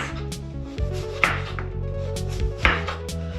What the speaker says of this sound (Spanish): ya tenemos la patata, la vamos a cortar en rodajas